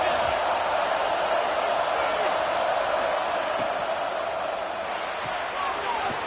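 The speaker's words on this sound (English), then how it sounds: "Listen to the crowd energy here in the early going." Stadium crowd at an Ohio State versus Wisconsin football game, a steady dense roar of many voices with no breaks, loud and continuous throughout.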